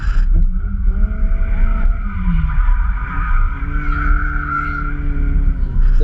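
A car drifting through the spread-out back section of a drift track, engine howling at high revs with shifting pitch, tires squealing and skidding, loud and close.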